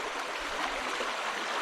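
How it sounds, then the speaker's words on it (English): Creek water rushes beneath a sagging wooden footbridge on a trail, a steady, full hiss of fast-moving current, close and continuous throughout. "This water is moving pretty good."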